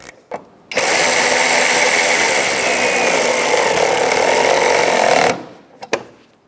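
A power tool with a socket tightens an 8mm bolt on a 2002-2005 Ford Explorer during parking assist sensor replacement, a loud steady whirring buzz lasting several seconds, framed by brief clicks before and after.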